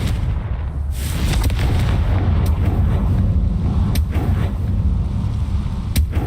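The Confringo blast spell cast in the Hogwarts Legacy video game, a loud booming explosive burst followed by a dense sustained rumble with sharp cracks scattered through it, loud and close.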